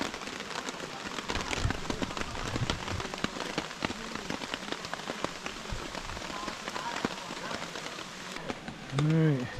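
Steady rain patters on a tarp at a backpacking campsite during a torrential thunderstorm in Carrabassett Valley, a dense close drumming of drops throughout, with a person speaking briefly near the end.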